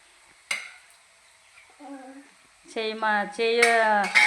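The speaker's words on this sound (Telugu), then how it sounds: "గిన్నెలు కడుగుతుంది చూడండి." A sharp clink of dishes being washed, then a voice rises over the clatter of crockery.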